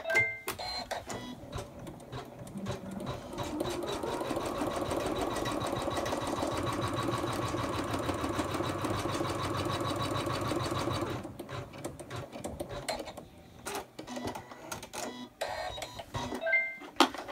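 Embroidery sewing machine stitching a placement line for applique fabric on a stuffed toy, a close, steady rapid needle clatter that runs continuously for about ten seconds, with quieter handling noises before and after.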